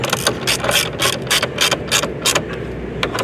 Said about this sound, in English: take your socket, tighten them up